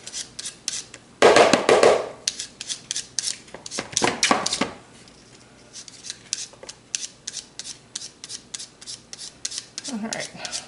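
A knife cuts vegetables into julienne strips on a board with quick bursts of close, crisp, scraping slices. Pauses separate the bursts, and brief talk and murmurs come in between.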